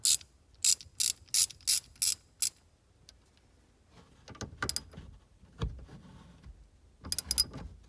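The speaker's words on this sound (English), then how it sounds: "you're going to want to take your 10 millimeter and loosen up the ground on your battery there" A 10 mm ratchet works on the battery ground terminal of a V6 Camaro: a rapid run of sharp, close clicks at first, then scattered metallic clunks and fumbling of the tool.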